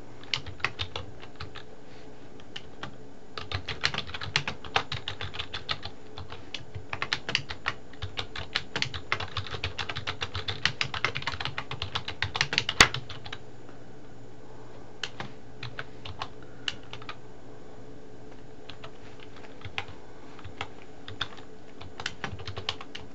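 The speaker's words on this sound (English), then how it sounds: "I'm going to type my name, comma, and I'm just going to type what's on that" Typing on a computer keyboard while entering footnote text, with bursts of rapid clicky keystrokes, short pauses and one sharper key strike midway, then sparser taps, all heard up close without speech.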